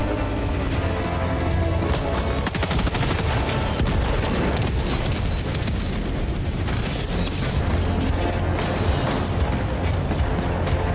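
An autocannon firing in Helldivers 2, with rapid heavy bursts of gunfire and booming impacts layered over continuous battle explosions, loud and close for the whole stretch.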